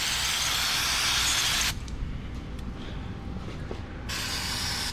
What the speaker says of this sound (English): try to get every little nook and cranny I can with the brake cleaner